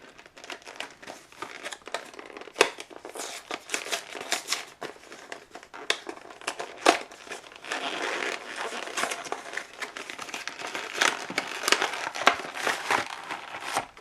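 Plastic wrap crinkles and crackles around a Magic: The Gathering Merfolk vs. Goblins duel deck box as it is unwrapped, a close, continuous rustle with sharper tearing bursts, no talking.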